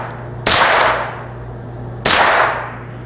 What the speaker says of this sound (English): The noise you're hearing is the round hitting the trap.